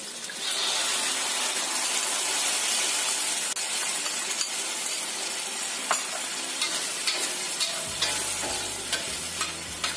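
Crab in padang sauce cooking in a pan, with prepared sauce stirred in: a steady, loud sizzle with scraping utensil stirs throughout, joined near the end by a low hum.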